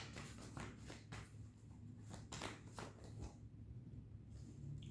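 Cards being shuffled in quick riffling bursts, soft and close, with brief papery flutters repeating and no voices.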